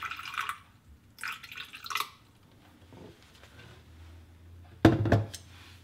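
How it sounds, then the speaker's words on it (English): Water pours into a spray bottle for a DIY room spray, a low steady filling tone building near the end before a short sharp splash, with a few soft rustling handling noises earlier and no talking. "then you just fill the bottle up with the water."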